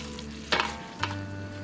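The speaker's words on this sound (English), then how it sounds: "Chicken starting to sizzle a little bit, brown up a little bit." Quiet, steady sizzling of chicken browning in a pan, with two brief clatters of stirring, no voices.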